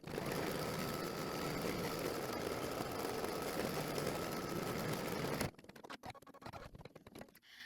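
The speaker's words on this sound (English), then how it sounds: "I am ready to stitch the background fabric onto my towel hanger." An embroidery machine stitching background fabric onto a towel topper in the hoop, a steady, rapid mechanical whir that runs evenly for several seconds and then stops, leaving faint clicks and handling noise.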